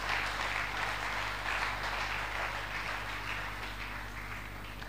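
A church congregation applauding and cheering during a French-language worship service, a dense, continuous wash of clapping that stays steady and moderately distant before easing slightly at the end.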